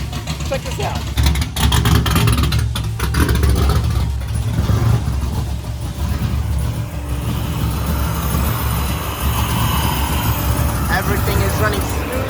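An LS-swapped Nissan 350Z running on a dyno, its V8 holding a loud, steady, close rumble with a few blips early on, while a person talks over it.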